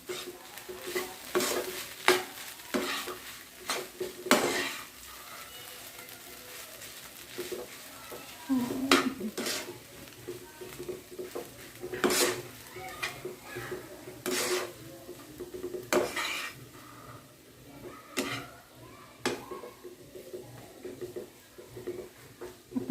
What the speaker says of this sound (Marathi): त्यामध्ये वरतून थोडं कोबी घालत आहे आणि पुन्हा एकदा मिक्स करत आहे